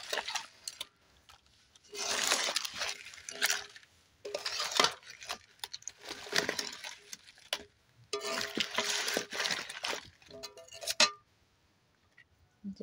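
Soft khaja sweets being gently stirred while frying, bursts of light scraping and clinking of a utensil in the pan, separated by quiet pauses, fairly close and faint.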